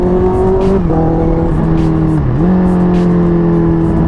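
Honda superbike, an RC213V-S or CBR1000RR-R fitted with a quickshifter, revving loudly and shifting up through the gears, the engine note dipping briefly at each quick change before climbing again, close and alone.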